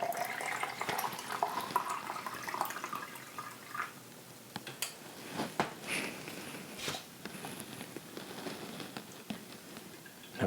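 Liquid film fixer being poured in a darkroom during black-and-white film developing, a fairly quiet splashing trickle with patters and drips, louder in the first few seconds and then tapering into scattered drops.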